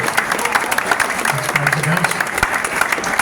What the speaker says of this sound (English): A nice warm round of applause for John and Brenda, everybody.